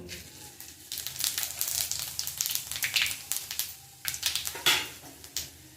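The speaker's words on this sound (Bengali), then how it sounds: "তেল গরম হয়ে গেছে তরকারিটা বসাবো ফোড়ন করে নেব ফোড়নে দেবো তেজপাতা আর দেবো পাঁচফোড়ন" Bay leaf and panch phoron hit hot oil in a kadai, giving a crackling, crinkly sizzle with sharp popping bursts that rise and fall over a few seconds, close by and with no talking.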